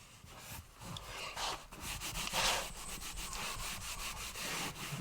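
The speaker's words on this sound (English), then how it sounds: "just take your damp rag and your finger in it and just wipe off the excess." A damp rag wipes excess off a new baseboard in soft, quiet rubbing strokes, a series of faint brushing swipes repeating unevenly at close range.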